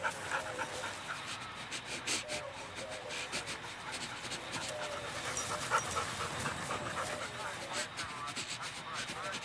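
A dog pants rapidly and steadily for several seconds, rhythmic close breathing with a faint rustle underneath.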